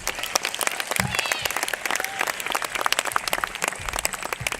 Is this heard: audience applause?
yes